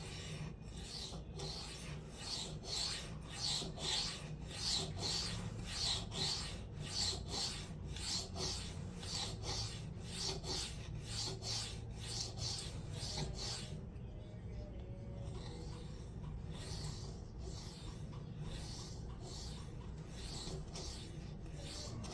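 A knife, a Byrd Meadowlark 2, is sharpened freehand on an Atoma 140 diamond plate, giving rapid repeated rasping strokes in a steady rhythm that pauses briefly, then resumes more lightly.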